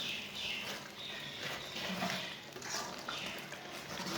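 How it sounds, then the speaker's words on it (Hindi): Spoon stirring spinach and potato in a pan over medium heat, a steady soft scraping and light sizzle running throughout, fairly quiet with no voices. "चम्मच चलाते हुए पकाना"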